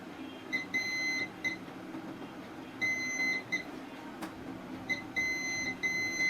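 A multimeter's continuity tester beeps while probing across a capacitor on a Vivo V20SE phone board: bright electronic beeps in repeated short bursts and longer tones over a steady background hum.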